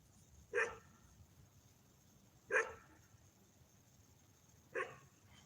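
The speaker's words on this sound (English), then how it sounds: "I wish somebody get the goddamn dog." A dog barks three times, single sharp barks spaced about two seconds apart, somewhat distant over a quiet room background.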